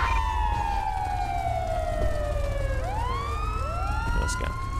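An ambulance siren in the GTA 5 video game, responding code 3: a loud wailing tone sweeping downward then rising again, with overlapping electronic siren layers over low engine rumble, no talk.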